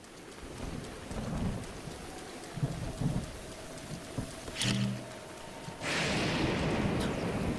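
Rain and a rumbling thunderstorm in Zelda Breath of the Wild, steady downpour building to a loud, hissing surge near the end, with low thunder rolls underneath.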